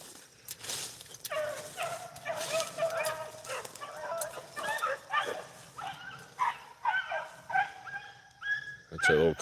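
A beagle pup bays on a rabbit hunt in the brush, giving repeated high, yelping bays and whimpering cries in an uneven rhythm at moderate distance outdoors.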